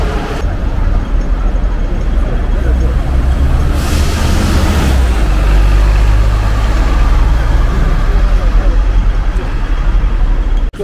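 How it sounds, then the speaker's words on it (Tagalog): Steady, loud traffic rumble from double-decker buses moving through Hong Kong streets, a continuous low engine drone with a brief swell of brighter noise as one passes close. "Ito yung mga double decker na bus."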